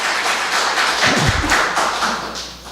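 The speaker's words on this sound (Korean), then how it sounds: "우리 박수 한번 칩시다" A church congregation claps together, producing a short burst of dense, fairly loud applause that fades away after a couple of seconds.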